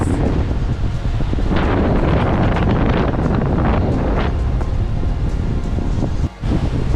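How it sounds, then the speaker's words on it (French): Strong wind batters the microphone at a gravel pit lake, a loud, unbroken roaring rumble with gusty swells and no pause apart from one momentary dip. "c'est très violent le vent là"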